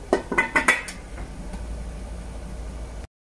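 A metal lid clatters onto a cooking pot holding a monggo, corned beef and spinach stew, giving a few quick, close ringing clinks before settling into a low steady simmer hiss.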